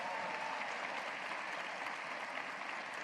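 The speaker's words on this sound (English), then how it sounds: "Let's give her a hearty round of applause" An audience at a university State of the University address applauds a student honoree, a steady, even roar of many hands clapping that continues unbroken throughout.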